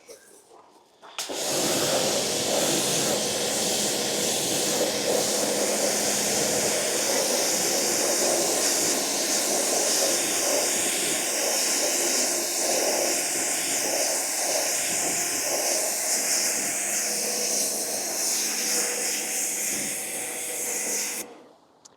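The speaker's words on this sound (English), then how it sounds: "Just pressure washer." A pressure washer sprays a dirty car in a garage, a loud, steady hissing rush that starts abruptly, holds constant for about twenty seconds, then cuts off.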